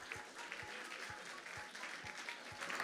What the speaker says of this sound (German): Applaus für Anne Gilzer und eine nächste Spielrunde.